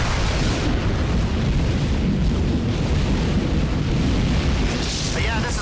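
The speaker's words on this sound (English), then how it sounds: "There's been some kind of explosion." An explosion aboard a starbase in the space game Tachyon: The Fringe, a sustained loud roaring blast that rumbles on as a heavy, continuous wash of noise without letting up.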